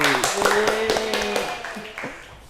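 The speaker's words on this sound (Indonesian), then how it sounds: "beri tepuk tangan kepada Mas Rizky." A short burst of scattered clapping from a small group in a classroom microteaching session, uneven and brief, with voices faintly mixed in.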